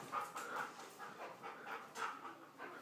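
A dog pants in quick, rhythmic breaths with faint whimpers mixed in, close and fairly soft.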